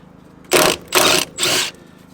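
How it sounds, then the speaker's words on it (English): An impact wrench working on the rusty front suspension of a Mazda MX-5 fires three loud, close bursts of about a quarter second each, with short pauses between them. "it's an impact wrench"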